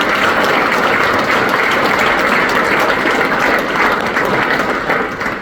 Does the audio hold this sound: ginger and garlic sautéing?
no